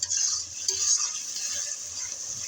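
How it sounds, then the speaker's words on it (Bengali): A spoon stirs salt into sea fish curry in a pan of hot oil, making a faint scraping and soft sizzle with a light metallic tap near the start, in a quiet kitchen. "লবণটা দিয়ে আমি একটু নেড়ে চেড়ে নিলাম"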